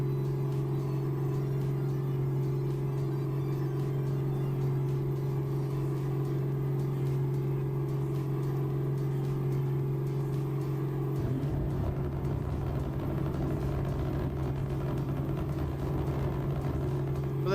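A truck engine in American Truck Simulator drones at max revs with a strong steady hum that shifts to a rougher, grittier chuntering partway through, continuous and fairly close.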